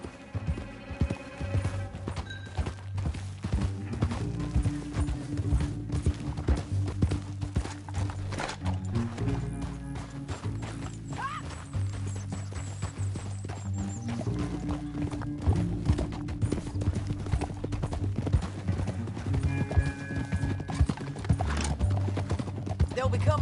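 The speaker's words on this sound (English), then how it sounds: "Back on your horse. Let's get after them." Horse hooves clip-clop steadily through a PS4 video game scene, with a horse whinny and game music layered around the continuous hoofbeats.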